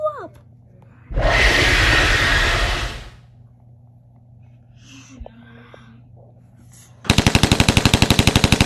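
Gunfire in a video game comes as a loud burst of rapid fire, then quiet game sounds, then a fast run of shots at the end. A voice makes breathy noises between the bursts.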